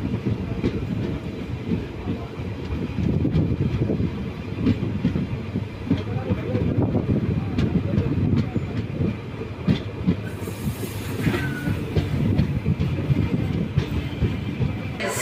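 The Hyderabad Superfast Express rolls steadily along the rails, a dense continuous rumble with faint rhythmic clatter and a brief metallic squeal near the end.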